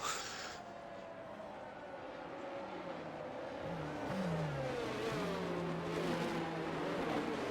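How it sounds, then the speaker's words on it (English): Race cars circle behind a safety car at the China round of a Formula 1 racing game, giving a steady moderate engine drone with whining pitch sweeps as the cars pass and shift, growing slightly louder toward the end. "Safety car going around one more time."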